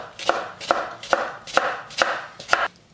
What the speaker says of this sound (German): Und dann leicht schräg dünne Scheiben runterschneiden, damit das nicht zu lange braucht, nicht zu dick schneiden.